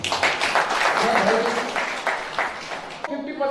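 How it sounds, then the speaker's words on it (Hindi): Audience members at a business seminar clap in a loose, uneven burst mixed with a speaking voice. The clapping drops away near the end as talk continues alone. "सर एक बार जोड़ा तालियां चाहिए।"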